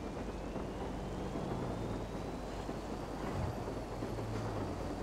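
Steady dense rain hisses continuously in GTA V, with a low rumble underneath and a car engine faintly droning.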